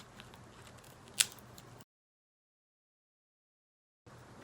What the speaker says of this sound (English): just like kiss it with your scissors